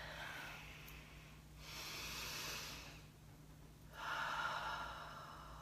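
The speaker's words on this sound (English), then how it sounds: "One more breath." Slow, deep breathing during a guided meditation, with two or three long airy inhales and exhales, soft and close, with no talking.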